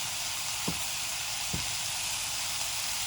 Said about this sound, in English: And you can probably hear that chicken in the background sizzling away.